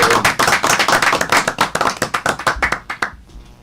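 A crowd applauds Lic. Evaristo Pepe Calderón at a blood-donor recruitment event, with dense, sustained clapping that stays loud for about three seconds, then thins to a few scattered claps and fades.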